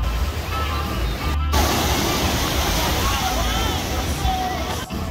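Continuous surf and sloshing waves wash in at the Virginia Beach oceanfront, a dense steady roar with a faint murmur of distant voices behind it.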